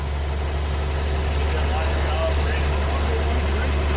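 A 1939 Chevrolet Master engine idles steadily after 48 years unused, a continuous low rumble that stays close and even throughout, with a faint background hiss.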